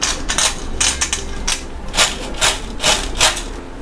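Crisp, rapid crackling and crunching from freshly fried cauliflower 65 pieces, close and fairly loud, a dense run of short bright snaps with no talking.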